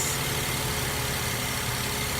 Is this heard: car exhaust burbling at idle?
yes